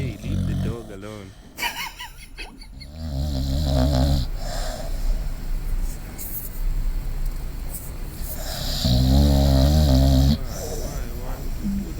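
A dog snores loudly in deep, rasping bursts that repeat in slow breaths, close to the microphone, while people talk nearby.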